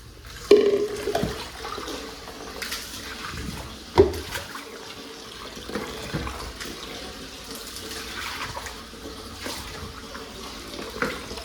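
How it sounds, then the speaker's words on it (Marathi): Water is poured out as floodwater is cleared from inside a house, gushing and splashing in bursts, with a few knocks and clatters in between, fairly close, no clear talking. "डायरेक्ट पाणी ओततंय"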